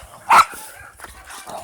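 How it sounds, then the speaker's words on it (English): A single sharp dog bark rings out close by, then the space falls to quiet background noise. "Dogs just bark at me."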